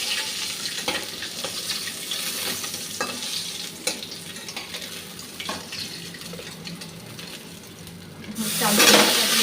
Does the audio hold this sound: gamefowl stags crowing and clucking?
no